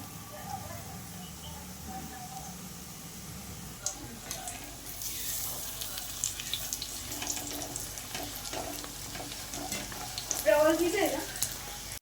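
Pav vada fries in oil with a soft, fairly quiet sizzle and crackle, some clinking and watery bubbling, building slightly louder toward the end.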